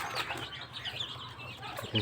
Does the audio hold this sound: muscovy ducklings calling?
yes